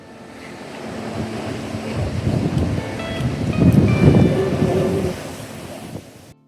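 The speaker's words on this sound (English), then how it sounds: "As the water rushes through the lava tube, it creates a deep hissing and roaring noise." Spouting Horn blowhole on Kauai, sea water surging through a lava tube with a deep roar and hiss that swells to a peak midway and then fades, buffeted by wind noise.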